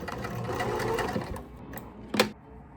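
A sewing machine runs steadily through folded fabric, a close continuous whir that slows and pauses, then a short burst near the end.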